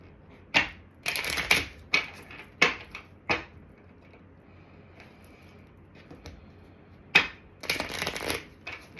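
A deck of tarot cards being shuffled up close: a few quick riffling and snapping bursts, each a second or two long, separated by quiet gaps, with no voices.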